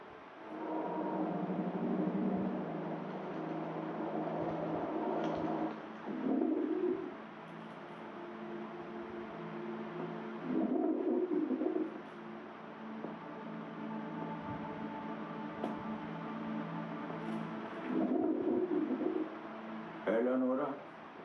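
Pigeons cooing in soft repeated bursts, with people talking steadily over them.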